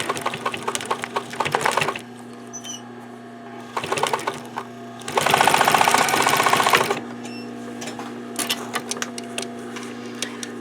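A home sewing machine back-stitching scrap fabric while making a glass or pencil case, with rapid needle chatter in several bursts, the longest and loudest in the middle, over a steady motor hum.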